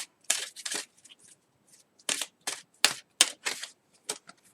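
Tarot cards being laid out on a surface, a quiet series of short crisp flicks and slaps in irregular bursts with brief pauses between them, close and alone.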